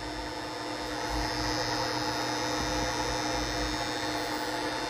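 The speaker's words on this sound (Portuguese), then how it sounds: "E ao longo do tempo, você vê a contatora, ó, o barulho." A contactor fed by a modified sine wave inverter buzzes with a steady, unbroken electrical hum, continuous and moderately loud with no other sounds over it.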